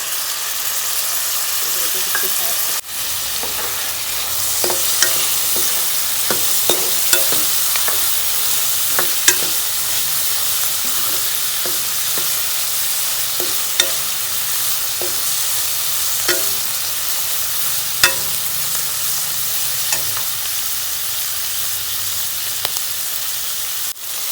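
Sliced onions and finely chopped tomato sizzle in a hot pan with spices while being stir-fried for an aloo shimla mirch (potato and capsicum) sabzi, a loud steady frying hiss up close with frequent scraping clicks of a spatula.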